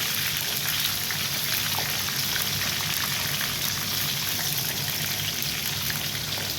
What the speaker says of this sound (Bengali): দেখতে পাচ্ছেন বেগুনের চপ কেমন করে ভাজতে হয়।